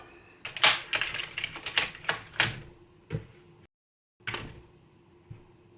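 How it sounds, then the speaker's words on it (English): Amiga 500 computer keyboard tapped in a test, a quick run of sharp clacking keystrokes in irregular bursts for a few seconds, then a brief silence and a few last isolated key presses. "let's check the keyboard"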